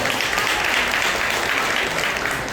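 Audience at a temple mango festival applauding a child performer, steady loud clapping from many hands sustained throughout without a break.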